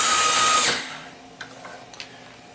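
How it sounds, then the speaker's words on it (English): A loud electric drill with a half-inch chuck, driving a small rice huller, whirs for under a second, then cuts off, followed by a few faint clicks and knocks from the machine. "I added a electric drill with a half inch chuck."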